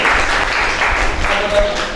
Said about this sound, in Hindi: क्लैपिंग करें